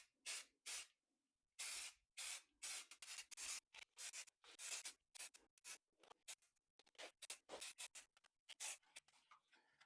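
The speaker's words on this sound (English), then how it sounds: "now I'm going to spray all of these pieces with some Rust-Oleum dark brown camo" Rust-Oleum dark brown camo spray paint hisses from a can onto small model pieces in repeated short bursts, close and crisp, with brief silences between sprays.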